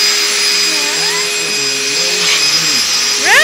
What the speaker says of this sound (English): you see right now just a regular vacuum cleaner